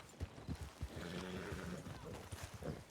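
Hooves clip-clop in an uneven rhythm with a horse's snort and whinny, close by, while a voice murmurs underneath, from a video game.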